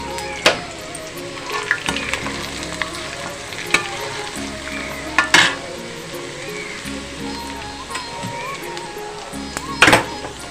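Tempering sizzles and fries in a pan for a South Indian katte pongali temple prasadam, a steady crackling hiss broken by sharp spattering pops and stirring clatters, heard close and loud.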